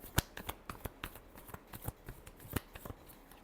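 Tarot cards being shuffled by hand, a faint, quick series of soft papery riffles and taps with a few sharper flicks over a few seconds, heard alone.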